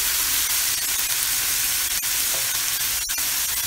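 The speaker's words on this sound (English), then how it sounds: "Matter of fact, a little bit more sizzle." Grass-fed beef sizzles and fries in oil in a hot pan, a loud, continuous hiss with occasional sharper pops and crackles throughout.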